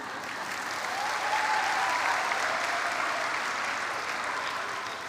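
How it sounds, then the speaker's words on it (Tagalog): Sustained applause from a church congregation during a worship service, a dense, steady wash of many hands clapping that swells after a brief start and holds evenly throughout, with no voices standing out. "Kakaunti na naman ang palakpak pagka sa mga gayon."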